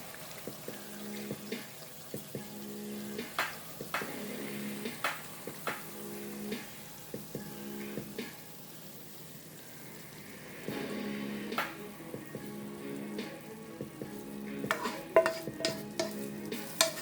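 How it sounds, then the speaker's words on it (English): Jerk turkey masala sizzling and frying in a pan, with soft rhythmic stirring scrapes and crackles recurring every second or so; quiet and close, with no talk. "I'm going to pour this on top of the meat now."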